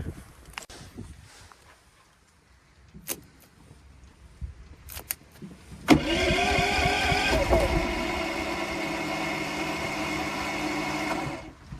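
A Predator 5000 inverter generator on an off-grid homestead in Maine is pulled over after some quiet handling clicks. It catches and then runs at a steady, loud hum. Its engine note shifts briefly soon after starting before it settles into an even drone.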